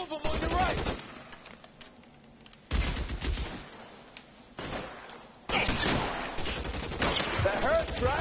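Gunfire in a shootout in the video game L.A. Noire comes in loud bursts of rapid shots separated by quieter gaps, with voices shouting between the volleys.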